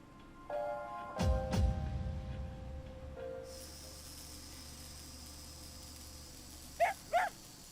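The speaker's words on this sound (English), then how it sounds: "I love that bark sound that they use, because that does not fit the moment." A single dog bark sound effect from the Persona 3 FES video game rings out sharply and loudly near the start, followed by a lingering electronic tone, a steady hiss and two faint short sounds at the end.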